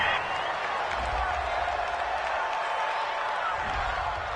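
A stadium crowd in the Madden 20 football video game roars in disapproval after a penalty flag on third down, a dense, steady wash of boos and noise at full volume throughout.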